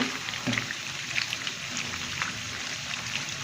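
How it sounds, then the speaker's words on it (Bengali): Beef fries in a pan while being stirred, a continuous close hiss of sizzling fat with scattered small pops and occasional spoon movements, with no voices. "এর সাথে সাথে আমি মাংসটাও একটু নেড়ে দিচ্ছি।"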